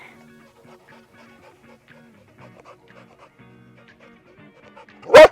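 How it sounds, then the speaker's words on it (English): During trick training with a frisbee held up, a dog gives a single sharp, loud bark at the very end, after several seconds of near silence broken only by faint small sounds. "I'm only going to reward him for barking when I'm holding the frisbee like this."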